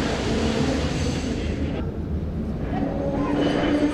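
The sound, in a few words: train arriving at station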